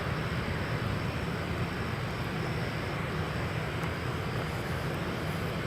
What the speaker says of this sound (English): This Delta A321 is on its way to Delta's home base of Atlanta